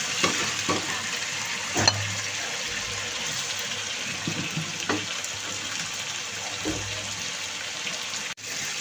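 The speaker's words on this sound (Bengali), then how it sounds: "মশলা কষানো হয়ে গিয়েছে" Spice paste frying with quail eggs and fried potatoes for quail egg biryani, giving a steady close sizzle broken by a few clinks and stirring knocks, with no voices.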